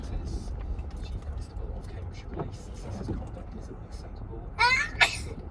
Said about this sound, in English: just did 2 sneezes in a row.